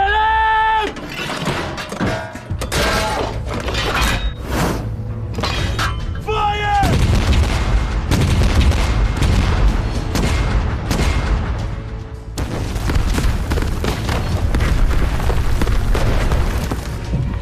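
Heavy artillery cannon fire in a war-movie trench battle: deep booms and crashing blasts roll almost continuously and loudly, with shouting voices mixed underneath.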